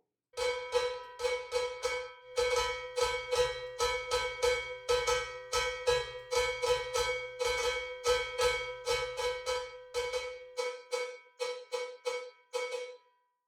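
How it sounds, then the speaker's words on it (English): Two hand-struck cowbells tuned to different pitches trade notes in a steady groove, bright metallic clanks ringing close and loud in a repeating rhythm until they stop near the end, with no talking. "So you're going to hear the different sounds of the cowbells."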